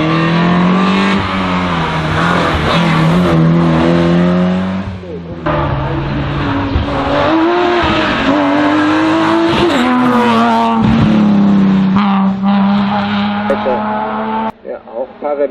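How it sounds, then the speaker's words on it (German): A Ford Escort RS 1800 race car at the 2023 Wolsfeld hillclimb roars loudly through its gears, its engine note rising and falling as it accelerates and brakes through corners, with a commentator talking over it. "Dann Werner Weiß mit dem Ford Escort RS 1800, er wird der nächste sein"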